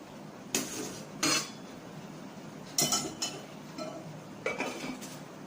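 Metal spoon stirs milk rice in a pot over heat, giving a few scattered scrapes and clinks against the pot over a quiet background.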